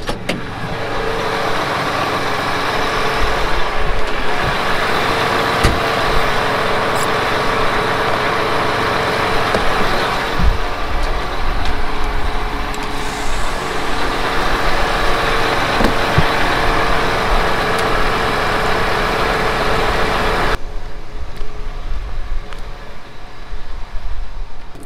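A diesel tractor engine runs steadily while drilling forage rye cover crop for hay, a loud, constant rumble with occasional knocks and rattles, then the sound drops and turns muffled near the end.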